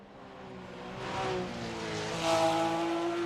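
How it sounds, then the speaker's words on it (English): A Porsche race car drives the Spa-Francorchamps circuit, its engine note rising in pitch in steady climbs as it accelerates, moderately distant and growing louder, with no voices. "Look at that Porsche. It's a beautiful car and the sound is absolutely amazing, of course."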